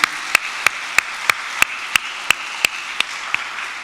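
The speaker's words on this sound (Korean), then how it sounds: "우리들을 위해서 박수 한번 쳐주세요." A church congregation claps in slow, regular unison, about a dozen sharp claps evenly spaced, each crisp and distinct against a quiet room.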